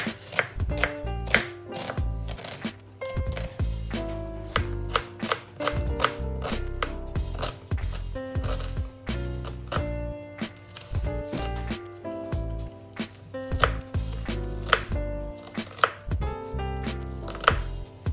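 Rapid knife chopping of red onions on a board, a dense run of close, sharp cuts with steady rhythm across the whole stretch.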